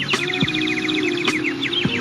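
A man whistles a string of quick, chirpy bird-call imitations, short repeated tweets in rapid succession, with a few faint clicks and background noise.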